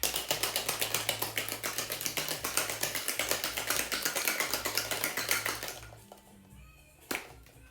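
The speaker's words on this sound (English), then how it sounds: "And then shake, quick shake." Rapid, rhythmic rattling of ice in a cocktail shaker mixing a mezcal margarita for about six seconds, then it stops, followed by a single sharp knock.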